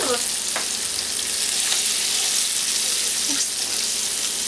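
Liver sizzles steadily in a pan, half-cooking for a Moroccan sauce dish, a constant bright crackle with occasional soft stirring scrapes and no talk.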